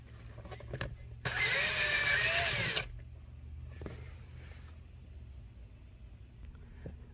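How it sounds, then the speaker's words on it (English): A power drill whirs loudly for about a second and a half, drilling a flat cable hole in a Honda CR-V, then stops, followed by quieter handling noises and faint clicks. "I drill a flat hole just enough for the flat cable to fit through."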